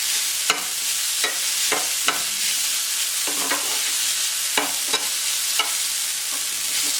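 Mashed elephant foot yam podimas, mixed with chilli and asafoetida powder, is sautéed in a pan with a loud, steady sizzle. A spatula scrapes and taps the pan in repeated, fairly regular strokes over the frying.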